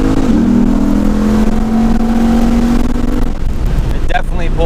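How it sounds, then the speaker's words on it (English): A Lexus ISF accelerating hard in first gear, its engine note rising loud and close in a sustained pull before a brief shift and a voice speaking over the engine. "A little first gear pull right here."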